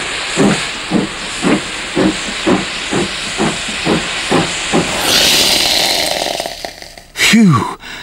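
A steam iron puffs steam rhythmically about once a second, then a long continuous hiss of venting steam, ending with a brief sharp chirp.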